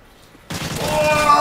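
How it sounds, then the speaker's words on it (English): In the Call of Duty video game, a loud burst of rapid gunfire from a strafe run erupts abruptly after a brief quiet moment and continues as a dense, crackling barrage. "Enemy strafe run incoming."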